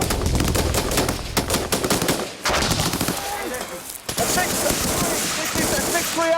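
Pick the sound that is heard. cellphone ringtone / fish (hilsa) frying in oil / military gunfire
military gunfire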